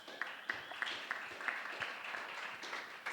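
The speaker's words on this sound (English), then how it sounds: "Big round of applause." An audience at a conference day in Argentina applauds as the next speaker is introduced, with scattered, fairly light claps and some sharper individual hits carrying steadily to the end.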